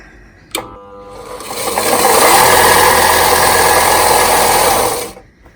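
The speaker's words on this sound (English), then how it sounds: "this is the belt sander that I'm talking about. Now she's a bit of a beast and very loud." A loud belt sander in a shed starts with a clunk, rises to a steady, harsh whirring roar that holds for about three seconds, then winds down and stops.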